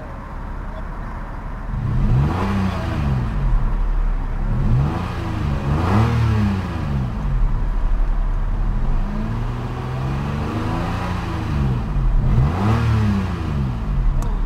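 A 2014 Toyota iQ with its 1.0 VVT-i engine revs repeatedly from idle, each blip climbing and falling in pitch in several rising-and-falling swells, close by and fairly loud over a steady idle.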